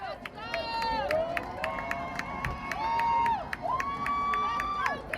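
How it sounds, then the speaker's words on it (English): A crowd at a high school football game cheers and shouts in a sustained roar, with whistle-like wavering tones and rising yells over the noise, and some voices rising out of the babble. "Crowd getting into it."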